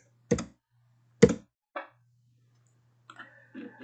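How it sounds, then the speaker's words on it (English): Two sharp, isolated computer keyboard key presses a second apart, followed by a softer click and faint rustling, close up over a low steady hum. "Press C on my keyboard, select this line and attach it to that point."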